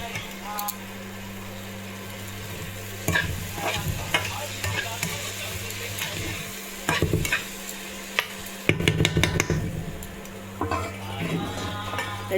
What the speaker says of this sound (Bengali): দেখি এদিকে ভাজাটা উল্টে দেখি।